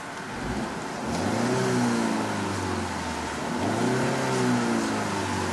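Refined four-cylinder engine of a 2015 Volvo XC60 T5 FWD running close by, giving two smooth revs that climb and settle back over a steady idle, with no talking.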